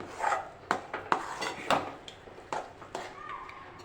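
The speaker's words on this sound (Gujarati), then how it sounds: "આ કિસમિસ લીધેલી છે તે લઈ લઈશું અને બરાબર મિક્સ કરી દઈશું" A spoon stirs sweet potato sheera with raisins and nuts in a kadai, giving close, irregular scrapes and sharp metallic clinks against the pan, repeated throughout with no voices.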